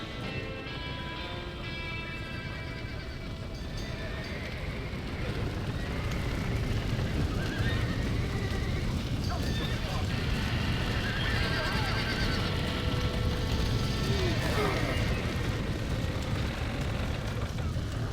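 Horses neighing and whinnying over clattering hooves in Red Dead Redemption, a loud, continuous scene with crackling fire-like noise and rumble beneath, no clear talk.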